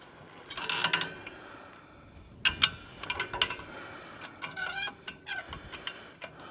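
Winch cranked by hand during a field repair, bursts of ratcheting clicks and gear whirs in uneven spurts, close and fairly clear.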